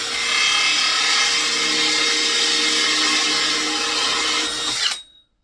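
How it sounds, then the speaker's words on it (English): A power drill bores holes into a wooden swift nest box with a loud, steady whir that holds for about five seconds, then cuts off abruptly. "I'm quite sort of gentle drilling these because I want it to be nice and neat."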